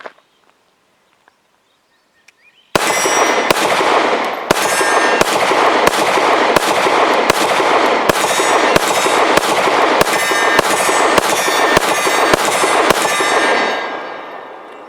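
A Lionheart Regulus Alpha pistol fires a steady string of about fourteen loud, sharp shots at a steel target roughly 20 yards off, each report followed by a ringing metallic clang, after a quiet opening.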